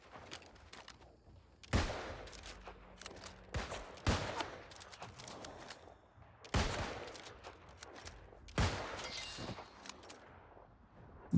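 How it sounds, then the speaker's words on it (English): Musket shots in the video game New World, a handful of sharp, loud cracks spaced a second or two apart over quieter background game noise, with no talking. "You shoot me with a musket, I shoot you back with a musket."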